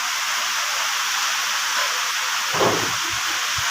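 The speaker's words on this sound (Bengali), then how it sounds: "এত রৌদ্র এত গরম আসলো আর এখন দেখো সেই বৃষ্টি" Steady rain pouring down after a spell of intense summer heat, a dense continuous hiss filling the whole stretch, with a brief low thump partway through.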